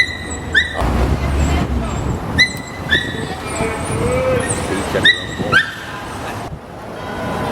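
Several short high-pitched yips and whimpers from puppies at a puppy store in Lisbon, a few bursts spread across the clip, heard over busy background noise and some chatter.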